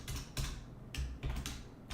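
Keys clatter on a computer keyboard in quick irregular bursts, several sharp close taps grouped with short pauses, with no talk over them.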